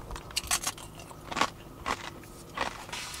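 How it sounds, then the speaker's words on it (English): Crunchy, freshly made puri bitten and chewed at an Indian street food bhel puri and pani puri shop, several sharp crackling crunches spaced through the moment, close to the ear over a low background hum. "Let's have a little bite of puri."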